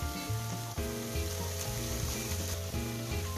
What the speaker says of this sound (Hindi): बस अब 1 मिनट सौते कर लीजिए और हमारी पिज्जा टॉपिंग्स एकदम रेडी हो जाएगी।